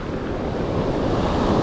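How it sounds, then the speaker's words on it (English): Rough ocean surf pounds the shore at a beach where people are fishing, a dense continuous roar of crashing waves mixed with heavy wind buffeting the microphone, with no voices. "These waves are freaking crashing so hard."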